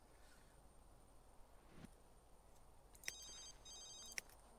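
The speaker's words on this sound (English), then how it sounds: "That's a phone." A telephone rings twice in The Sims 3, two short electronic trills spaced about a second apart over faint room noise.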